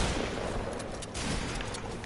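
Dense, continuous burst of gunfire in the Fortnite video game, a steady loud barrage of shots layered with game noise and no clear gaps across the whole stretch.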